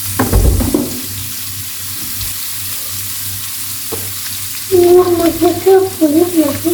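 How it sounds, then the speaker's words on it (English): Onions stir-fried with seasoning for Nigerian jollof rice, a steady close sizzle with scraping stirs and a few knocks, growing louder and busier near the end. "Continue to stir fry the onions till it becomes caramelized"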